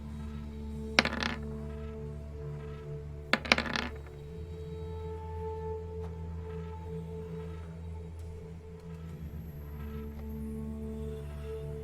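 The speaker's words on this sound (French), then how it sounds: "t'as lancé les dés" Dice rattling and clattering in two quick bursts during a tabletop role-playing game session, sharp clicks over a low steady background hum, then a quieter stretch with faint room tone.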